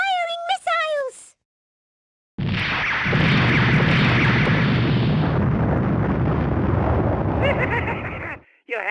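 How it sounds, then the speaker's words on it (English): Missile launches and explosions from the PlayStation action RPG The Misadventures of Tron Bonne erupt into a long, loud, rumbling roar sustained for several seconds, after a brief high-pitched game voice and a moment of silence. "Launch missiles! Firing missiles!"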